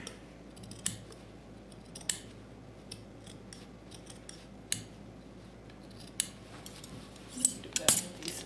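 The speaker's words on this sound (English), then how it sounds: "Do that with these scissors." Scissors snip through excess fabric while a closed-sided purse is sewn, giving a series of sharp, close cuts at irregular intervals with a quick cluster near the end, alone over a quiet room.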